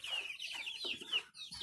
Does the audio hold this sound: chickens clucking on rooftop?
yes